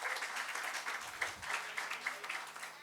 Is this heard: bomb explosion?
no